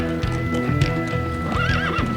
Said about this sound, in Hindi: घोड़े पर?